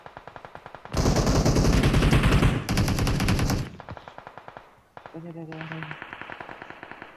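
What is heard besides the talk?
gunfire in video game PUBG Mobile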